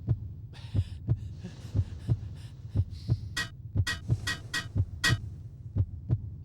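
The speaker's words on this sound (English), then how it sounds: "is the music for this level just a heartbeat?" A heartbeat serving as level music in the video game Kileak: The DNA Imperative, a steady low thumping pulse about once every second, with brighter game effects sounding over it.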